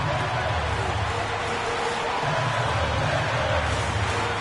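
Basketball arena crowd in an NBA 2K game murmurs as a steady, dense roar of babble and cheering, with squeaks and a low hum, under a commentator's voice.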